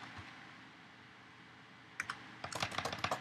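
A computer keyboard being typed on, first quiet room tone, then a couple of isolated key clicks followed by a quick run of close, crisp keystrokes.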